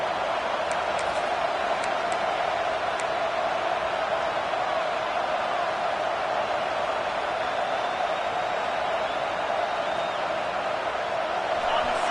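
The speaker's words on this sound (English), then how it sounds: "This crowd busting the decibel meter and trying to will a 4th down stop" A stadium crowd at a football game holds a constant, dense roar, loud and unbroken throughout, with scattered whistles and shouts riding on top as fans push for a fourth down stop.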